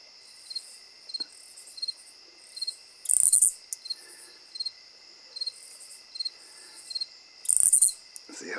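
Katydids sing by a river at night, a steady high buzzing chorus pulsing in regular short bursts with two louder, nearer calls standing out; no voices.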